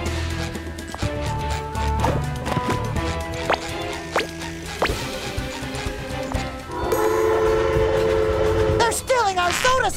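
A train in the SpongeBob SquarePants: The Cosmic Shake video game, with rolling rail noise and a tonal whistle blast near the end, layered under game music and character voices.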